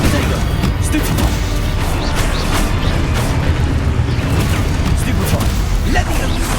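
Expulso and Confringo spell blasts go off in Hogwarts Legacy, a dense, loud, continuous rumble of booms and crashes with a voice talking throughout.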